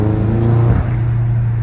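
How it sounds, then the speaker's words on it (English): A car engine roars steadily with a deep, throaty intake drone, rising briefly in a rev before settling back into a sustained loud rumble. "Intakes sound insane on this car."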